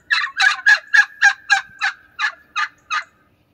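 A turkey gobbles in a rapid series of about ten loud, close, rattling pulses that gradually slow and fade, heard alone against silence.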